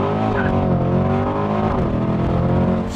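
A Chevrolet C8 Corvette launches hard from a standstill with the throttle floored, its engine note climbing steadily and loud, close up, with some tire noise and no talking.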